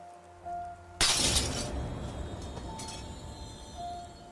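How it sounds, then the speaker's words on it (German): A glass window shatters with a sudden loud crash, followed by a long spray of tinkling fragments that decays over a few seconds against a quiet, tense musical backdrop. "Das Geräusch von zerbrechendem Glas zerschlug die erdrückende Stille wie ein Schrei in der Nacht."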